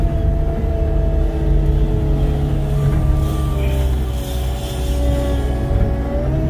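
A skid steer's diesel engine runs steadily while dragging logs, a loud, close, continuous drone with a deep hum and shifting tonal whine, no voices.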